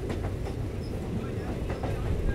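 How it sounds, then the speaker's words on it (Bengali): Passenger train rolling over the Ajay river bridge on the Katwa–Azimganj line, a steady close rumble with faint rhythmic wheel clatter throughout and no pause. "আমাদের ট্রেনটা কিন্তু এখন পাস করছে অজয় নদী"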